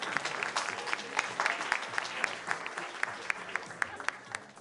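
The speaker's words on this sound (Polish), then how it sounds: "Brawa, wielkie brawa." An audience applauds at the Miss Nowa Huta beauty contest, with sustained clapping and sharp individual claps standing out over a steady crowd wash.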